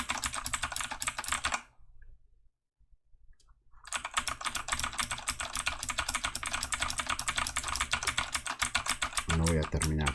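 Rapid, continuous clicking of a computer keyboard as someone types a document in Word online, close and crisp, pausing briefly to near silence before resuming steadily.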